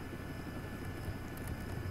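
Steady whirring rotor and engine drone of a helicopter in the Roblox Jailbreak video game, a continuous dense hum that holds at an even level throughout.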